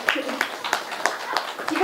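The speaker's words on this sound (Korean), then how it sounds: "박수 부탁드리겠습니다" An audience at an education talk claps, giving a brief burst of rhythmic, moderately loud handclaps with a voice speaking over it.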